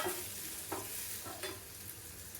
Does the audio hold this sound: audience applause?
no